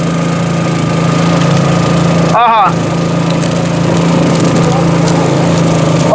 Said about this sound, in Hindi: और ये जो मशीन चल रही है, भैया चला रहे हैं मशीन